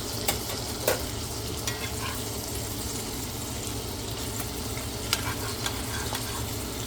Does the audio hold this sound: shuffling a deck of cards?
no